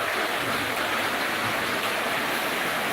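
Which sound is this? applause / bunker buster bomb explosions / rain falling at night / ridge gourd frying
rain falling at night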